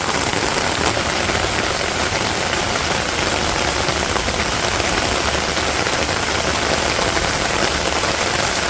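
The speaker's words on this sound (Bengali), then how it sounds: "এই বৃষ্টির মধ্যে ছাতা নিয়ে তারপর ছাদে ঘুরতেছি" Heavy rain pours onto a village rooftop in a dense, steady hiss of drops that stays loud and even throughout, with no voices.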